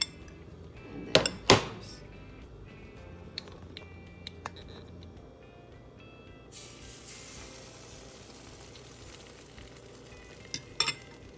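A slice of bread dipped in egg mixture lands in a skillet on medium heat for French toast, with a couple of sharp knocks followed by a faint, steady sizzle that brightens as it fries.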